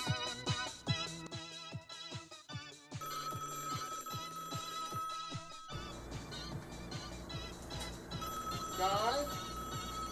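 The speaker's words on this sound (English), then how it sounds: "phone's ringing" A telephone bell rings in repeated bursts indoors, clear and fairly close, with a ringtone-like melodic pattern continuing underneath while people talk over it.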